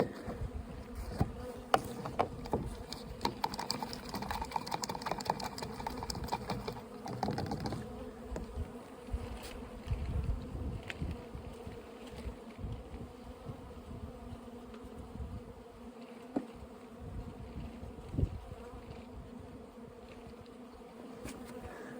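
Honey bees from a late-season split buzz steadily in a dense, droning hum, close and continuous, with a few soft knocks and rustles underneath as they are shaken.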